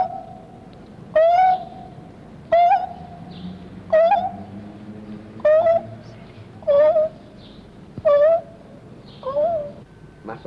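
A human voice imitates a dove's cooing, repeating a hollow, hooting call about seven times at an even, unhurried pace, close and clear.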